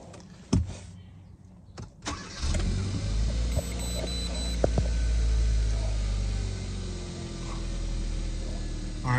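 A Kia Forte with a misfire fault cranks and starts after a few sharp clicks, then settles into a steady, close, low idle hum.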